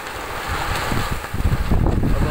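Strong storm wind gusting between buildings, a loud, close roar with heavy buffeting rumble on the microphone that surges and builds toward the end, with no voices.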